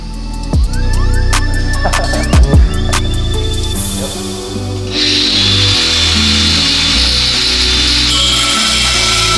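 A power tool cuts and grinds away a metal lip while a 2022+ Toyota Tundra gets a six-piston forged big brake kit. Harsh sawing bursts start and stop, then a steady loud high-pitched grind carries through to the end.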